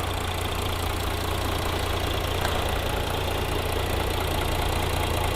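A Mercedes-Benz E350d diesel engine idles at a steady, even rumble, close by, with no voices over it.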